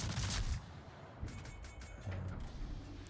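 A battleship's main-gun salvo in a naval video game, a heavy booming rumble of several guns firing together, loud and close, followed by lingering rolling echoes.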